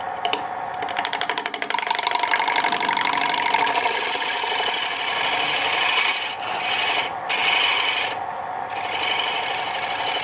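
A woodturning scraper cuts wood on a lathe, producing a loud, continuous close-up rasping scrape that opens with rapid chattering pulses and is broken by a few short pauses.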